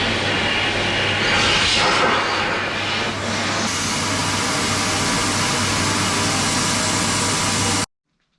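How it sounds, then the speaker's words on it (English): A small hair dryer blows warm air into a motorcycle fuel tank during rust treatment, giving a loud, steady broadband whoosh with a low hum that runs unbroken for about eight seconds before cutting off abruptly. "I'm going to speed up the process by using my little trusty dryer here to put warm air into it"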